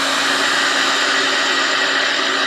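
A handheld blow dryer runs steadily throughout, a constant loud whooshing hiss close to the microphone, used to heat the limb of an American Girl doll.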